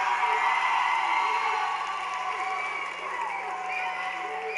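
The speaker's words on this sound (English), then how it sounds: "there better be a lot of cheering from the Jerry Howard family" A graduation ceremony crowd cheers and claps for a graduate's family, a dense, sustained roar of many voices and applause filling a large hall at steady loudness.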